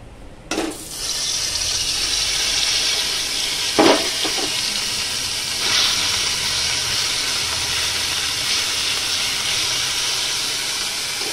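Spiced masala paste of chilli and turmeric powders with tomato sauce sizzles in a kadai, a steady bright hiss from hot oil with a few sharp crackles and stirring bursts, close and loud.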